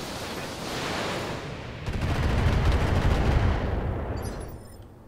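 Mech weapons firing in the BattleTech video game: a heavy rumbling barrage swells, then a rapid stuttering burst of autocannon-like fire rolls through, loud and close, before tapering off.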